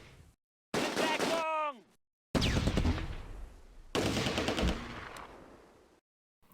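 Heavy machine gun fire in the WWII tactics game Close Combat: A Bridge Too Far, at Nijmegen, comes as several loud rattling bursts separated by brief pauses, with talk over parts of it.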